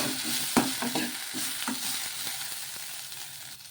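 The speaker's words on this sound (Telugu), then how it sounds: "ఈ పచ్చిమిర్చి అన్నీ వేగే వరకు వేయించేసుకోవాలి" Green chillies and coriander fry in a pan with a bright steady sizzle, broken by scraping stirs and a sharp clack of the spatula early on, close and without talk.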